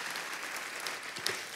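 Congregation applauding loudly at a church service, a dense steady wash of clapping from many hands filling the short stretch, with no voices standing out.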